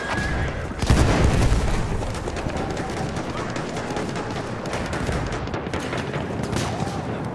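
A bomb explodes in a video game with a loud boom near the start, followed by steady rattling gunfire and battle noise that continue at close range for the rest of the scene.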